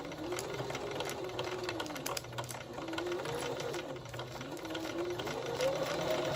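A sewing machine stitches fabric for a crinkle tag baby toy, back stitching at the seam ends; its motor whirs in a steady, continuous mechanical hum at close range throughout.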